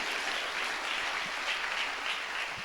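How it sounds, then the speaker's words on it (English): Steady, dense applause from the attendees of a live-streamed community event, a continuous wash of many hands clapping without a break. "Give a round of applause, please, for these people that are attending this event with us."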